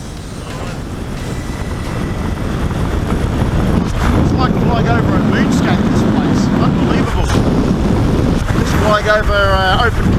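A paramotor flies over an open mine. Heavy wind buffeting fills the microphone, with a steady rushing roar under a droning engine throughout.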